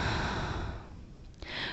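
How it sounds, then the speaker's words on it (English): A long, breathy exhale during a yoga flow, loud and close, fading out over a second or so before a brief catch of breath at the end. "Take a breath in and a big breath out."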